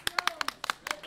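A few sparse, distinct claps in an uneven rhythm, close and fairly faint, from a small audience at a comedy show, with a voice faintly heard underneath.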